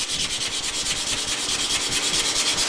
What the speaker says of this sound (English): this is really probably just sanding out like butter